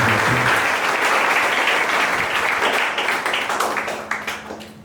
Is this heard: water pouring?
no